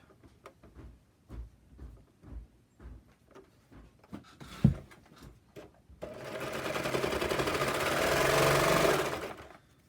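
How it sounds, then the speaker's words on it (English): A serger stitches a reinforcing seam on a handmade tote bag, a steady, loud mechanical whir running continuously through the last four seconds after scattered quieter handling knocks and taps. "I will stitch that with my serger for a little reinforcement."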